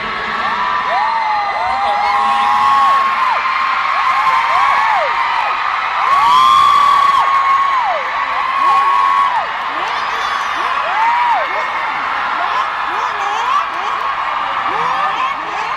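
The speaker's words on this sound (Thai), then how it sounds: "ตอนนี้ผมขอฟังเสียงผู้สนับสนุนของเราก่อนได้ไหมครับเสียงเชียร์ Let's hear the voice of the crowd" A large crowd at a stage show cheers and whoops for the performers, with many high shrill voices rising and falling in overlapping calls, loud and sustained throughout and swelling partway through.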